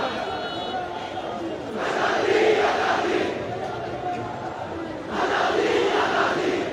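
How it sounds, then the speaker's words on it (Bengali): Protest crowd chanting a slogan in Bengali in two loud rhythmic surges, with quieter crowd noise between them, out in the open at a road blockade with police and border guards nearby. "তারা এখানে দিল্লি না ঢাকা, ঢাকা ঢাকা স্লোগান দিচ্ছেন।"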